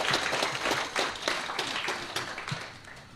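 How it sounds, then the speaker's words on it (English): Applause from the crowd at a university campus ground-breaking ceremony in Eenhana, a steady wash of many hands clapping at moderate volume for about three seconds, with no talking. "Can we give them a round of applause?"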